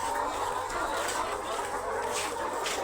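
Layer hens on a poultry farm cluck softly in a steady, busy chorus, with a few sharper calls standing out.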